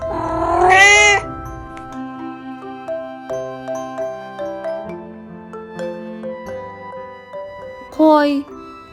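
A cat gives a loud, drawn-out meow, then a gentle plinking melody plays before a second, shorter meow near the end.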